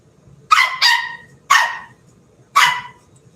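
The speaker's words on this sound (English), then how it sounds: "Do you hear the dog trying to talk to you?" A dog on a live CB radio broadcast gives four sharp, fairly close barks, two in quick succession and then two spaced apart, standing out clearly above a quiet background.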